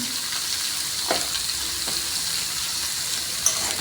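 Potatoes sprinkled with turmeric and salt fry in a pan, giving a continuous near sizzle with a few brief stirring scrapes and one small clink near the end.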